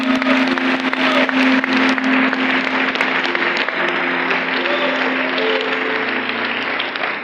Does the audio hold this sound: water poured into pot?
no